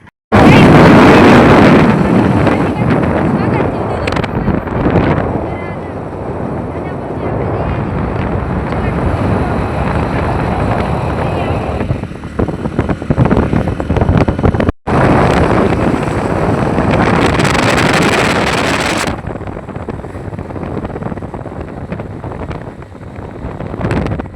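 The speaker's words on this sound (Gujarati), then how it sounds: "આ પવન બહુ વધી રહ્યો છે" Strong wind roars steadily against the microphone throughout, loud and broadband, with a short dropout midway and brief lulls, during an outdoor trip.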